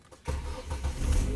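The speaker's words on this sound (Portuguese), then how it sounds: "Vou ligar o carro aqui para ver." Chery Face car engine after a fuel pump repair, starting with a brief crank before catching and settling into a steady, fairly close idle rumble.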